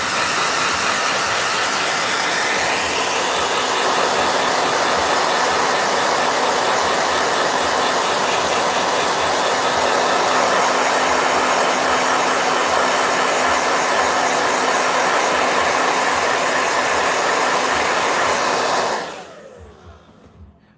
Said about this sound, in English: I'm blow drying watercolors because I don't want to wait